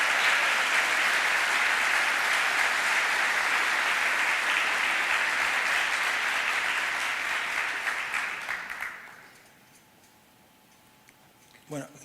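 An audience at a Spanish-language talk on Argentina's economy claps in loud, sustained applause that fades out after about nine seconds into a quiet room.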